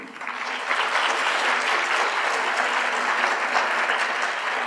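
Audience applause swells in quickly and holds as a dense, steady clapping from a large crowd.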